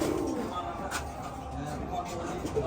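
Rajshahi Giribaz pigeons cooing in a loft, soft repeated low coos close by over a noisy background with people talking nearby.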